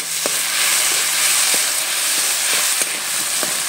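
Food frying in a pan with salt being added, a steady loud hiss and sizzle with a few faint clicks and scrapes, no voices.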